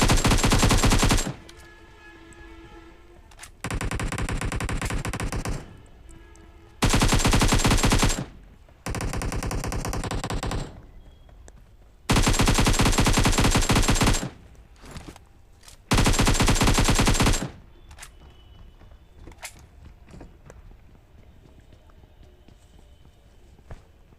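Bursts of automatic gunfire in the battle-royale game Battlegrounds Mobile India, Survive Till Dawn mode near an apartment, come in five loud sustained volleys of a second or two each, separated by quieter stretches of footsteps and scattered single shots.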